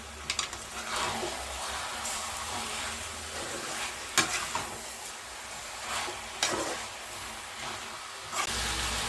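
Chicken with turmeric, coriander, chili and garam masala powders is stirred in a frying pan, giving a continuous sizzle with periodic scraping strokes of the spoon against the pan, close up and without talk.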